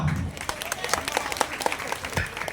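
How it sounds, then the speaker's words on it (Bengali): A small gathering applauds a guest at a Bishnupur event, a brief burst of scattered hand claps at moderate distance, with a voice briefly audible at the start. "এটা হাততালি ওনার জন্য"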